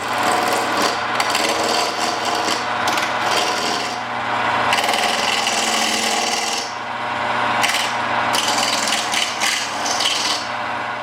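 A lathe turns a blank of resin cast with coffee beans, giving a steady, loud rasping and scraping roar that runs throughout with small surges and dips, no voices present.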